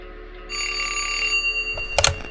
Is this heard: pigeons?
no